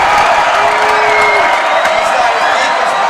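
A loud football stadium crowd roars and cheers steadily throughout at a varsity high school game, with both sides of the stands joining in and a voice talking over the noise.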